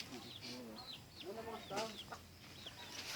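Stag roosters clucking at a farm, with several short, separate calls rising and falling over low background noise and quiet voices talking nearby.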